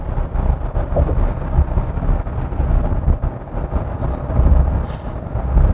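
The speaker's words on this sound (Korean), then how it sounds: "그럴 때 풍절음이 좀 많이 들어오는 편에 속합니다." Wind noise inside the cabin of a KGM Musso EV accelerating to speed on a calm day: a constant loud rumble and rushing roar, steady with slight swells, and no talking.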